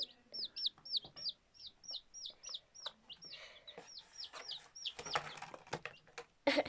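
Rapid, high-pitched peeping chirps from a baby chick repeat in quick succession, close by, followed by some rustling and handling noises.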